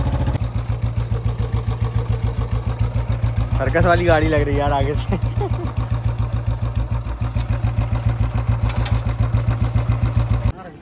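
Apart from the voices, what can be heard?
Royal Enfield Bullet motorcycle engine idling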